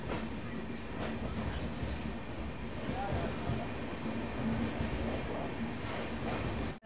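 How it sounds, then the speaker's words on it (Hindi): The Rapti Sagar Express passenger train runs steadily on the rails, a constant loud rumble and rattle of the carriage heard from inside, with faint clatter and squeal over the drone. "ट्रेन अच्छी खासी चल रही थी"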